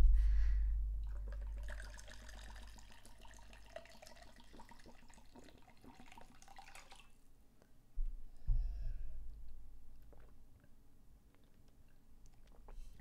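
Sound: getting water, water pouring

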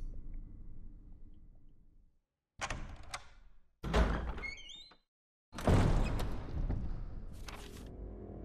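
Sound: door opening in video game Resident Evil HD Remaster

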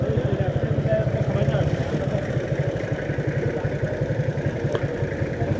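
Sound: motorcycle engine passing on hill road

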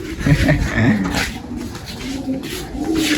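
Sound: pigeons cooing

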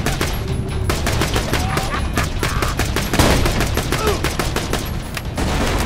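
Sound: grenade explosion and gunfire in Borderlands 2 video game

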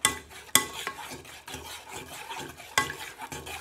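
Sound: stirring milk for cauliflower cheese sauce in a pan

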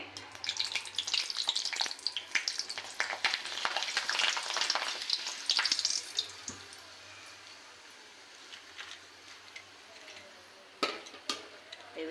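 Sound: frying snacks in hot oil

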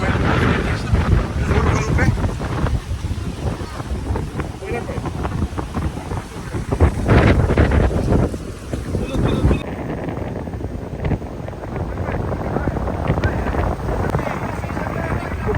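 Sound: strong wind blowing by a river in Belgium

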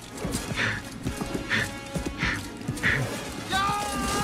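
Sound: armored horses galloping in a battle, film First Knight

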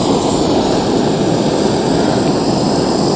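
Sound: Dpower gas camping stove burner roaring after lighting

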